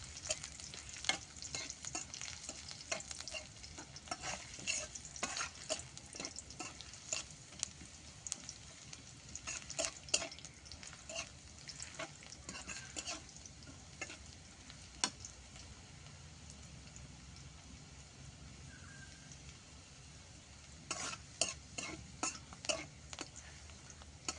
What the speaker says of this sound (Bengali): এবার এটিকে ভালোভাবে ভেজে নিতে হবে।